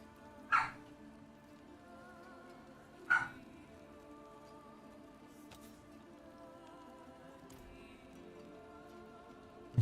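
Mika, a dog, lets out two short, isolated barks a few seconds apart. They are moderately close over a faint steady background hum.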